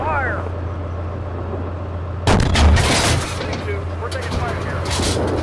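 A T-72 tank cannon in Steel Beasts Pro PE fires once with a loud, close boom and a long rumbling tail, over a steady low engine hum with radio chatter around it.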